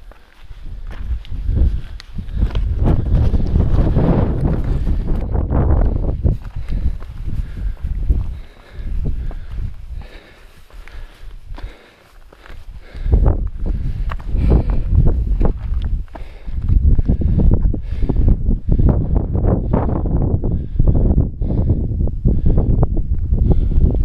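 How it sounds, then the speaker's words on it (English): Strong wind on Bigelow Mountain in Maine buffets the microphone in loud, rumbling gusts that roar almost continuously, dip briefly and then return, mixed with faint crunching footsteps. "Well, I can hear that wind."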